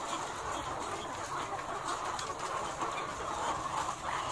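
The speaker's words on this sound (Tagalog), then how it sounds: "So pinapakita ko na lang po sa inyo ang mga manok na ito." Leghorn chickens on a farm make a steady, dense clucking chatter, a flock sound that continues throughout amid broad farmyard background noise, with no talking.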